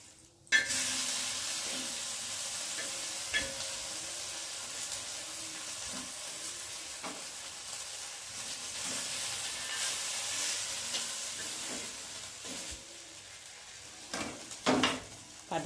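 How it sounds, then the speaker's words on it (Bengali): Patishapta pitha with filling frying in ghee in a pan, a soft steady sizzle close by that continues throughout, punctuated by a few faint clicks and taps toward the end. "গাওয়া ঘি দিয়ে একটু ভেজে নেওয়া হচ্ছে"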